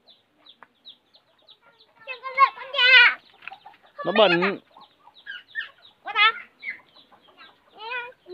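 Chickens beside a pond cluck and squawk in a few close, sharp bursts separated by near-silence, with a person briefly talking among them.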